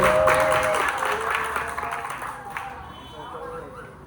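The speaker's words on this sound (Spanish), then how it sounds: "un aplauso para Fobos, directamente desde México" Audience applause at a conversation event, a crowd clapping together with murmured voices and speech underneath, gradually tapering off.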